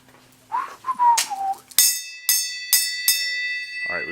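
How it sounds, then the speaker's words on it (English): A hand-rung bell at a house rings out in four clear metallic strikes, each with a long bright ringing tail, after some whistling or bird-like tones at the start. "So you want to ring the bell if you can reach it?"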